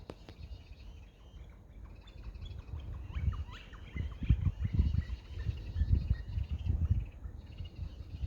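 Wild turkeys gobble in the woods during deer rifle season, a few rough calls standing out over soft bird chirps and low rustling, moderately distant and faint, with no one talking.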